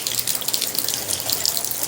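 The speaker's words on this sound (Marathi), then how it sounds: "हे बघा धबधबा कपिलधाराचा दोन धबधबे" Kapildhara waterfall at a temple in heavy monsoon rain, heard as a steady, loud rush of falling water with a continuous broadband hiss and no voices.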